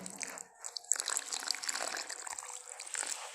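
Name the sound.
warm water poured into semolina dough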